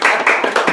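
A studio audience claps during a castle cooking show, four quick bursts of hand claps in a short, loud, close run with no talk over them.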